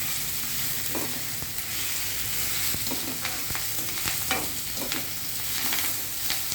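Mint leaves frying in oil in a pan for chutney, a steady close sizzle with soft scraping stir strokes throughout, no talk.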